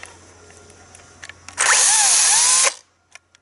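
A battery chainsaw whines up sharply for about a second, its high motor pitch rising and dipping, before stopping abruptly as the chain brake is tested, with soft clicks afterward.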